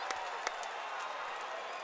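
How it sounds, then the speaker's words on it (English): Arena crowd after a caged fight finish, a brief burst of cheering and scattered claps with a couple of sharp hand slaps, heard at a distance. "And the crowd is going nuts."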